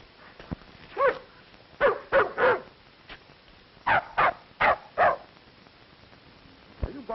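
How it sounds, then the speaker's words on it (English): A big dog barks in bursts: a single bark, then a close volley of three, a pause, and four more sharp barks, fairly near and clear against a quiet room. "Are you barking at that little dog?"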